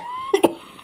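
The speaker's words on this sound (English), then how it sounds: "I'm about to cough." Two quick coughs close up, one right after the other, in an otherwise quiet setting.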